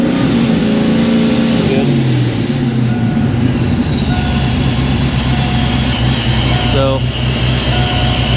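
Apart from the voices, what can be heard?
Foxbody Mustang 347 V8 engine revving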